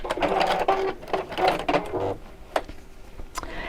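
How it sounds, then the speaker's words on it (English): A sewing machine stitches a bag seam in quick whirring bursts with clicking needle strokes, loudest early and then tapering to a few isolated mechanical clicks, close by. "that's why I'm doing a little one, Claire, so I don't actually sew over the patchwork bit."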